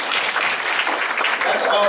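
An audience claps, a dense, steady burst of applause from a group of people, with a voice faintly mixed in.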